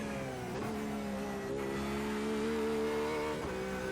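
A Porsche RSR race car engine in a racing simulator, a continuous loud harmonic drone rising and falling with gear changes and revving, brief shift blips breaking the steady tone.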